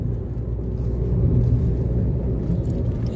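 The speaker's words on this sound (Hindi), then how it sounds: "गाड़ी चला के बड़ा मजा आ रहा है" Steady low engine rumble and road noise from inside a car driving along a quiet rural road through fields on Majuli island, continuous and even.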